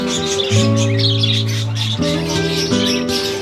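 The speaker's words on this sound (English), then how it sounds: "We're here in our parakeet aviary and they are already settled right here." Parakeets in an aviary on a farm, a dense chorus of chirps and squawks loud and close, layered over a steady tonal hum from the surroundings.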